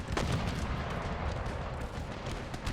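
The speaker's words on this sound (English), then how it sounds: "incoming cannon fire." Cannon fire in the battle game Empire Total War, modded with Darthmod: dense, overlapping booms and crackling volleys roll on without a break, loud and continuous with no talk.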